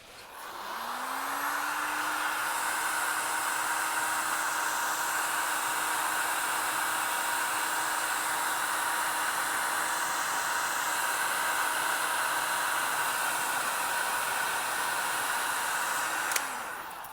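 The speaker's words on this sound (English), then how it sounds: "So I get my hot air gun." A Ryobi hot air gun blows steadily for about fifteen seconds while heating glue over plastic braid, a loud even fan whoosh with a motor whine that rises at switch-on and winds down at the end.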